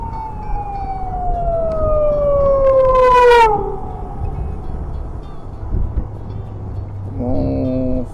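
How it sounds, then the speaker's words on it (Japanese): Police car siren sweeping downward in pitch as it passes, loud and fairly near, heard over steady road and Suzuki V-Strom motorcycle riding noise on a mountain road in Totsukawa, Nara; a short horn-like tone follows near the end. "パトカーが来た。"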